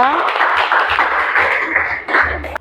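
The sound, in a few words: classroom applause for group 2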